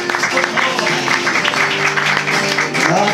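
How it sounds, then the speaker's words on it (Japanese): An audience applauds performers at the ending of a 70th-anniversary comedy live show, dense clapping running steadily throughout, mixed with chatter and a voice speaking over it. "出てきて拍手を"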